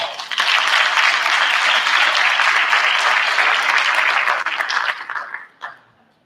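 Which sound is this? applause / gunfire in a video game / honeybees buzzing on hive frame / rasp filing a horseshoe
applause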